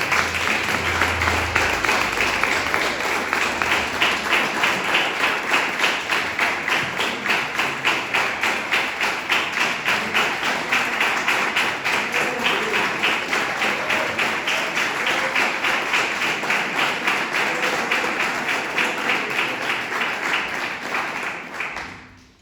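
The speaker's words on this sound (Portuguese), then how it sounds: "Aplaude o Senhor com fé." A church congregation claps continuously in steady rhythmic unison, filling a reverberant room for a long stretch before the applause stops abruptly.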